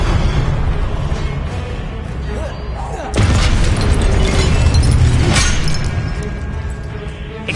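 A Confringo blasting spell bursts in Hogwarts Legacy with a sudden loud boom partway through, followed by a sustained crackling roar that fades slowly amid other combat noise.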